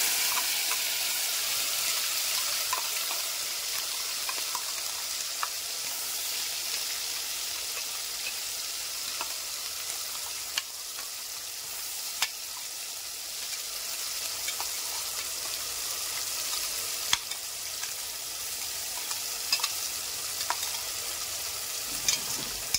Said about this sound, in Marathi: हे चांगलं तेलामध्ये फ्राय करून घेऊया याला आपण मसाल्याला.